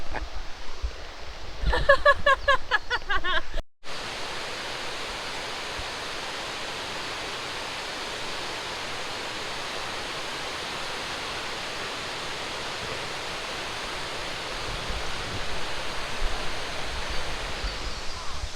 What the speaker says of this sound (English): you can hear the waterfall in the distance